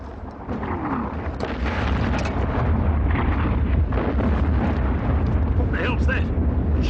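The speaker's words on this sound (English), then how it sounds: "What the hell's that? Shells." Artillery shells exploding in a World War I battle scene, a dense rumbling barrage of heavy booms and blasts rolling continuously and loudly, with shouting voices mixed in beneath the bombardment.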